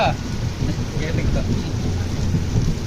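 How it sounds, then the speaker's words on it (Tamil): Steady rain falling during a journey on the Nilgiri Blue Mountain Express from Chennai, a continuous dense wash of drops with low rumbling underneath and a faint voice at the start. "மழை பெய்யுது"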